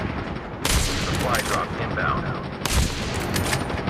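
Sniper rifle gunfire in the mobile shooter game Call of Duty Mobile, two sharp, loud shots about two seconds apart, each followed by a ringing tail, with game sounds between them.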